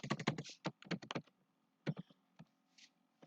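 Computer keyboard keys clatter in quick bursts of typing as C++ code is entered, with fast clustered strokes, a pause, then a few scattered taps, close and clear with no talk.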